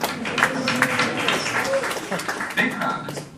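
A crowd of about 3,000 applauding at a Tech Cocktail event at 1871 in Chicago, a broad wash of clapping and cheering mixed with voices throughout.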